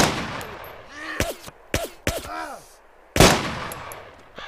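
Gunshots from a firearm in the video game DayZ: three sharp shots in quick succession with ringing tails, then a louder, heavier blast after a short pause.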